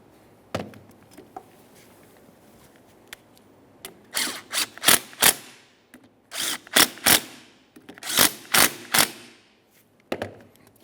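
Three 10mm-headed mounting bolts being snugged up on the wiper motor and transmission of a 1994–1997 Honda Accord: bursts of sharp, rapid metallic ratchet clicks, close and loud, separated by short pauses.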